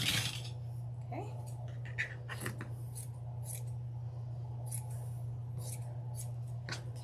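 Scissors snip paper for a floral wreath attachment in a run of quick, close cuts, set against a steady low hum with brief speech.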